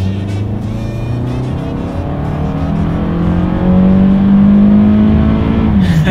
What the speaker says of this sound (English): let's see how quickly we can get this new 2019 Toyota Camry 4-cylinder, that is the one we have today, up to speed